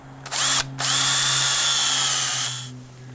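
A power drill with a 5/16 inch bit whirs up loudly, stops briefly, then spins steadily for about two seconds as it bores into a maple tree for tapping before winding down.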